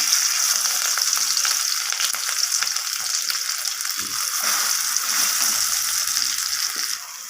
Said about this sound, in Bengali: এরপর আমি তেলের মধ্যে মেখে রাখা আলুটাকে দিয়ে দিলাম।